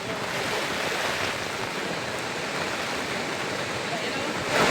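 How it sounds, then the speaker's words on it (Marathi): Thoseghar waterfall in Satara, swollen by monsoon rain, crashes down in a loud, continuous roar of falling water, with a voice talking faintly underneath. "या ठिकाणी हा धबधबा जो कोसळतोय हा छोटा धबधबा म्हटलं जातं"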